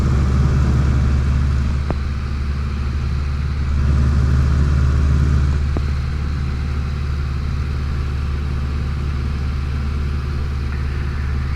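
A Luscombe light aircraft engine drones steadily from inside the cabin, a loud, low, constant hum with little change in pitch or level and no talk.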